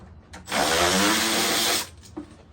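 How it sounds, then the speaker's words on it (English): A power drill driving an 8mm socket whirs steadily for about a second and a half, removing screws from the throttle body of a 2012-2017 Jeep Wrangler, close and loud with brief quiet before and after. "I'm going to unbolt the throttle body"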